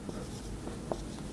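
Brief, quiet handwriting during an English grammar lesson on prepositions: a few soft scratching strokes close by, with no talking over them.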